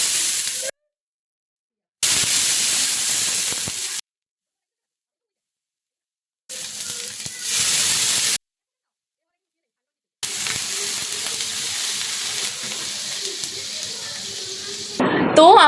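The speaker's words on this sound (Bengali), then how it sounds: "প্যানটা গরম হয়ে গেলে একদম দোকানের মতো এটার মধ্যে পানি ছিটিয়ে দিব।" Water splashed onto a hot dosa pan sets off bursts of steady hissing sizzle, loud and close, broken by several stretches of silence between the bursts.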